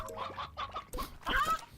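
Chickens in the Slime Rancher game cluck in quick, close bursts over a short stretch, with several overlapping fowl calls and soft chirps.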